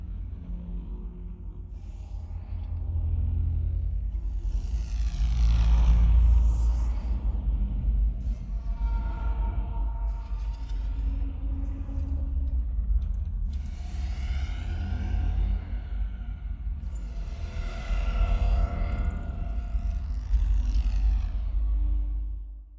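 Cinematic trailer-style effects from the Vortex Sphere 3D Kontakt instrument: deep rumbling whooshes and roaring swells that surge and fade in waves, dense and loud, with no talk.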